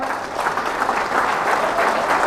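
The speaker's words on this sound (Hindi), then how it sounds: "तो एक बार जोरदार तालियां" An audience at a career-success seminar breaks into hearty applause, many hands clapping loudly and continuously in a close, dense burst for a couple of seconds.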